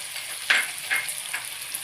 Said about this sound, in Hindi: इसे भून देंगे अच्छे से।